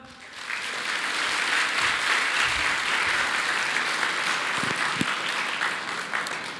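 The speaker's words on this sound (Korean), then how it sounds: "박수를 제일 크게 받으셨습니다." Warm, sustained applause from delegates at a dental association general assembly in Jeju, dense clapping filling the hall at a steady level with a few sharper claps standing out.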